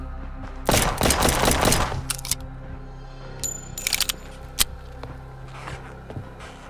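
Gunfire in the horror video game Maid of Sker, a rapid loud burst of shots followed by scattered single cracks and clicks of reloading, close and without talk.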